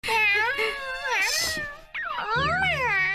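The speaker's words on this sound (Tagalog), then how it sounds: "Mukhang gustong-gusto ka ng pusa, tama ako. Ang lambing sa'yo." A black cat meows in several long, drawn-out, wavering cries, close and fairly loud with no other sound.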